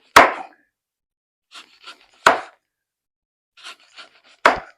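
Lemons being sliced thin with a knife on a cutting board: three sharp, close chops spaced evenly, with quieter rustling and scraping in between.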